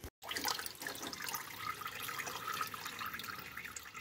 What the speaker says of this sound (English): I took the hose off, draining out the coolant